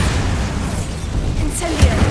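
A Bombardus spell explosion in Hogwarts Legacy, a loud booming burst over continuous dense game noise, with a sharp impact near the end.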